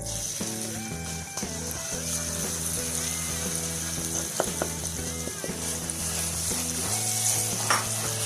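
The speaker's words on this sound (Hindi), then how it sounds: "अब इसको ना थोड़ी देर के लिए अंडों को भूनेंगे सूजी में" Eggs and semolina fry together in a pan, a continuous close sizzle broken by scraping, clicking stirring strokes, with a steady humming tone running underneath throughout.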